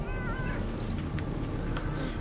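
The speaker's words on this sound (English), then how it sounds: "These cats are all horrible monsters." Cats meow in the video game Underrail, several drawn-out yowls and caterwauls rising over a steady low game ambience, close and fairly clear.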